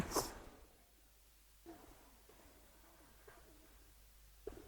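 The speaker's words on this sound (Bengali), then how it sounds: "খুব সুন্দর একটা কবুতর" A pigeon coos softly in a quiet indoor space among a keeper's pigeon collection, with a few low, faint calls spread across the stretch after a brief handling bump at the start.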